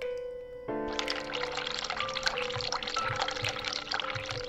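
In The Cat Lady video game, a sink tap turns on and hot water runs, a steady splashing pour that starts abruptly after a brief tonal hum and continues to the end.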